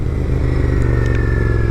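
Royal Enfield Continental GT650 motorcycle riding in traffic, a loud, steady engine drone with throbbing low exhaust pulses and a faint whine, close and continuous.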